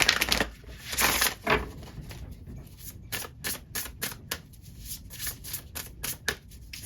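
Sacred Forest Oracle cards riffled and shuffled by hand in a quick run of crisp, papery bursts, close and fairly quiet, with no talking.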